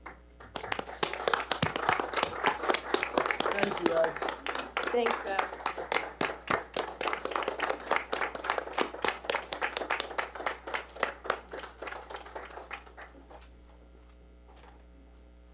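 An audience at a village board meeting breaks into applause for a retiring member. Dense, steady clapping runs for about twelve seconds and thins out to scattered claps over a low mains hum, while a few people speak briefly.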